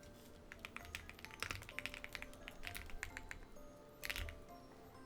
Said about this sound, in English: I was just typing.